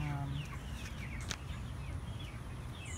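Several white leghorn crossed with Cornish rock chickens cluck softly in a coop, with scattered short calls over a steady background noise and no speech.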